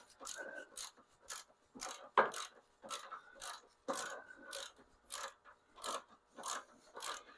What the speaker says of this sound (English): So we're going to take this bolt out here.